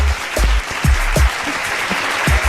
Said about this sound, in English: Let's give him a little bit of a round of applause.